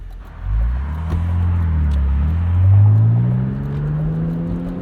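A 1999 BMW M Roadster pulls away and accelerates after the clutch engages, its engine note rising smoothly through the revs, close and fairly loud with no voices.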